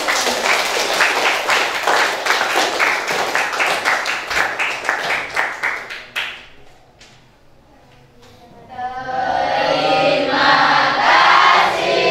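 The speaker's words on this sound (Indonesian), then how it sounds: "Tepuk tangan buat kalian." Students applaud at the end of a learning session, with dense, lively clapping for about six seconds that fades into scattered claps and a brief lull before loud crowd chatter swells.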